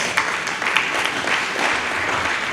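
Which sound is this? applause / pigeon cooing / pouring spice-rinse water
applause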